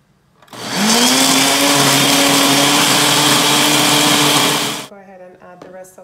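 A loud Ninja blender making a blackberry, blueberry and banana smoothie roars steadily for about four seconds, then cuts off, leaving quieter clatter and faint sounds afterward.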